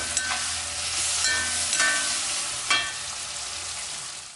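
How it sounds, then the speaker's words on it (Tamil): Onion, garlic and tomato sautéing in a pan for a prawn masala, a steady soft sizzle broken by a few sharp utensil scrapes and stirring clicks. "வெங்காயம் பூண்டு எல்லாம் வதங்கும்போது நம்ம கொஞ்சம் உப்பையும் போட்டுக்கலாம்"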